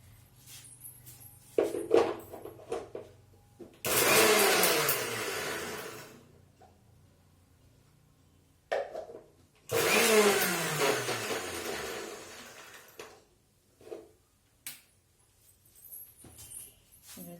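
A mixer grinder pulses thoothuvalai leaves in two loud bursts of roughly two seconds each, motor whine rising and falling, separated by quiet pauses with faint handling noises.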